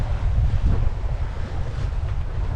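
Steady wind buffeting a microphone on a sailboat at sea near the Scottish isles of Muck, Rum and Eigg, with a continuous low rumbling roar and faint water wash throughout, no voices.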